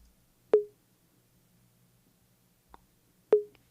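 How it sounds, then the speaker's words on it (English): Two short, identical 808 conga hits fired from a drum sampler by a hi-hat pattern, each a quick tuned pop that fades fast, spaced about three seconds apart with a faint tick between them. "I have a drum sampler with a conga 808 sample in it"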